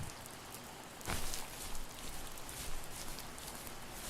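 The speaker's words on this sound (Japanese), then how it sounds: "雨音もいいんですけど、ちょっと寂しいですね。" Soft rain patters steadily in the video game The First Tree, a gentle, even wash of drops with a few slightly louder splashes, heard alone with no talking.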